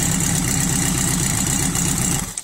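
A go-kart fitted with an 1100cc Suzuki Gixxer motorcycle engine idles nearby with a steady, loud, rumbling throb that continues unbroken, then briefly drops away at the very end.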